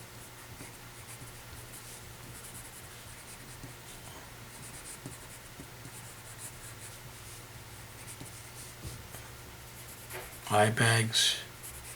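A pencil sketches skin folds onto paper for a face drawing, a soft continuous scratching beneath a speaking voice, with a brief louder burst of strokes near the end.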